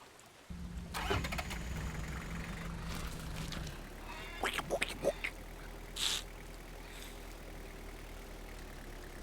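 Pickup truck engine in the Farmer's Dynasty video game cranks and starts, then settles into a low steady idle, followed by a few brief clicks and knocks.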